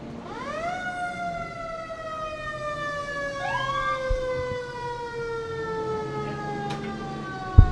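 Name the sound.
Newport Fire Department fire engine sirens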